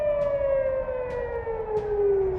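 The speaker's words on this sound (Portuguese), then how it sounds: "Em algumas partes do país, sirenes soaram à medida que os mísseis e drones se aproximavam." An air raid siren in Israel wails alone during a missile and drone attack, a single loud tone sliding slowly downward and holding steady throughout.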